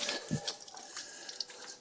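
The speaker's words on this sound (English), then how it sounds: "when I open the vent in that, it'll allow the water to drain out of the hot water heater" Water draining from the open plug of a hot water heater in a Newmar Dutch Star motorhome, a soft splattering trickle with faint irregular drips, fairly quiet and without voices.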